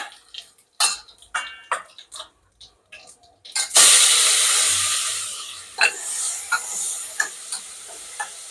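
Mustard seeds, cumin, asafoetida and fenugreek seeds hit hot oil with a sudden loud sizzle that slowly fades. A few spoon clatters and taps on the pan come before and after it. Close, with no talking.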